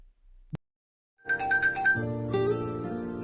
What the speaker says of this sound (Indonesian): Ponselnya berdering ada panggilan dari Fang Zhou, namun Xiao Yuan tidak mengangkatnya.